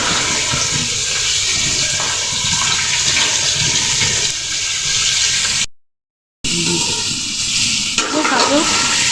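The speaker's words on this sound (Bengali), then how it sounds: "আর এক চুলায় ডিমটা ভেজে রাখি" An egg fries in a pan on the stove, giving a steady close sizzle that stops briefly for a moment of silence and then resumes, a little softer.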